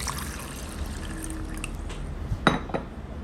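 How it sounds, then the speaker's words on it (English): Water poured into a blender jar holding carrot and pineapple for lemonade, a soft steady trickle with a few sharp clinks and splashes near the end. "I am going to add enough water so that I could blend away"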